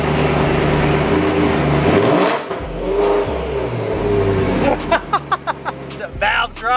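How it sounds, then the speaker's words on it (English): A Honda Civic Type R (FK8) with an AWE Tuning exhaust revs hard several times, rising and falling with a throaty exhaust roar, then finishes in a string of short, sharp blips. "About to show him what a real exhaust sounds like."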